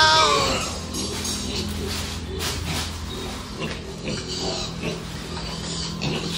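A large gilt pig squeals and grunts while being injected with vitamins on a farm, loud continuous distressed cries with harsh noisy bursts over steady background hum.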